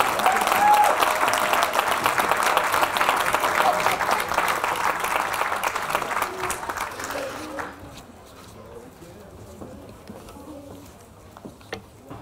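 A large crowd applauds graduates at a college hooding and commencement ceremony, a loud dense clapping that holds for about seven seconds and then drops away abruptly, leaving quiet room sound with a few scattered late claps.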